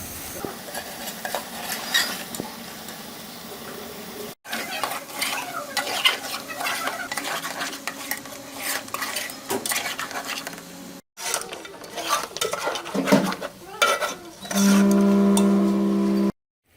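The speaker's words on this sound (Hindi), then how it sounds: "इसको एक्चुअली भूनूंगी जब तक कि ये जो ऑयल है ये अलहदा हो जाए।" Chicken feet frying in oil over a high flame, with steady sizzling broken by repeated scraping and stirring of utensils against the pot, close and fairly loud, no talking.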